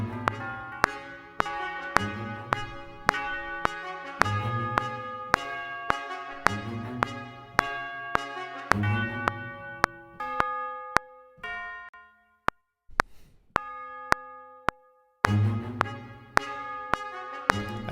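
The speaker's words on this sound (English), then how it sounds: "Tubular bells." Tubular bells struck with soft mallets ring out in a slow series of clear, pitched strikes, each note sustaining and overlapping the next, with a few sparser single hits and short pauses midway, close and unaccompanied.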